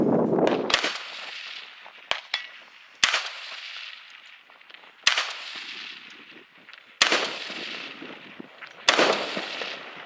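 Gunshots ring out on the tower stage of a two-man shooting competition: about six sharp reports spaced irregularly across the span, each followed by a fading echo, with no nearby voices.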